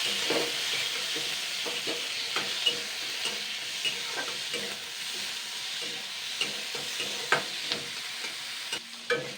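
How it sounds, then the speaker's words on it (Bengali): Chopped onion, tomato and garlic paste fry in a pan while being stirred, a constant moderate sizzle broken by repeated short scraping knocks of the spoon at an irregular pace. "এখানে আমি একটা কুচানো পেঁয়াজ একটা টমেটো কুচানো আর এক চামচ রসুন বাটা দিচ্ছি এগুলোকে জাস্ট দুই মিনিট মতো নাড়াচাড়া করে নেবো"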